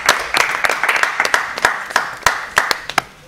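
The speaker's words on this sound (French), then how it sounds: "On applaudit très fort pour Rose." School event audience claps loudly for a student named Rose, a close, energetic burst of hand claps with distinct individual strikes that thins out toward the end.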